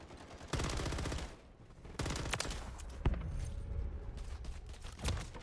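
RAM 9 submachine gun fire in Modern Warfare 3 multiplayer, fast automatic bursts of roughly a second or more with short pauses between, loud and close-up, with a few isolated shots.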